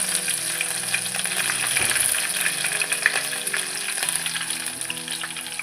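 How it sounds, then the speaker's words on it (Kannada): Mustard seeds, cumin and green chili crackle and sizzle in hot oil, a dense continuous frying hiss with scattered pops, close-up and steady for several seconds, no talking. "ಈಗ ಎಣ್ಣೆ ಕಾದೈತಿ, ಸಾಸಿವೆ ಜೀರಿಗೆ ಹಾಕ್ಕೊಂತಾರೆ. ಈಗ ಹಸಿಕಾಯಿ ಹಾಕ್ಕೊಂತೀನಿ."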